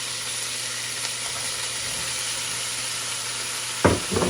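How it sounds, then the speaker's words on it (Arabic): Breaded chicken panné cutlets frying in oil give a steady close hiss and sizzle, then a louder burst of crackling spatter near the end, with no talking. "هسه راح اذب البانية"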